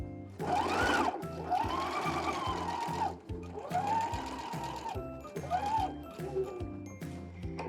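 Sewing machine stitching a fabric corner, a close rapid mechanical chatter running in several bursts with short pauses between them as the corner is turned, no talk.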